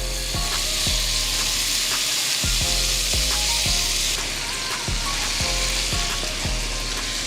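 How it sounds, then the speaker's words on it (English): Shrimp sizzle and fry in a hot pan while cooking pasta, a loud continuous crackle with repeated clinks and scrapes of stirring throughout. "now we're gonna go ahead and add our shrimp."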